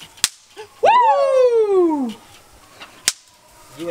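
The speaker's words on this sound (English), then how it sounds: "Don't you dare tell me that's fireworks." Fireworks going off nearby: a sharp crack, then a loud whistling shriek that slides downward for about a second, then another sharp bang with fainter pops around it.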